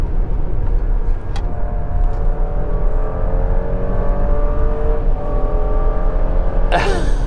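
A 2019 Porsche Cayenne Coupe engine hums steadily and builds smoothly as it accelerates, heard from inside the cabin, with a brief rush of noise near the end.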